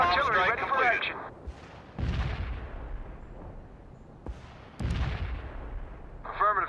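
Napalm artillery shells strike in the real-time strategy game World in Conflict, as two deep, booming impacts land several seconds apart, each rolling into a long rumble, with radio-style voices talking at the start and end.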